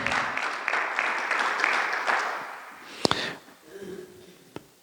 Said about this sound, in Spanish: ¿Será que podamos darle un fuerte aplauso al Señor de señores, al Rey de reyes?